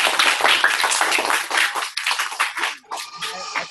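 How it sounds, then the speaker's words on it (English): A round of applause from an audience, fairly close and dense, thinning into scattered claps with brief gaps near the end. "So let's give him a round of applause."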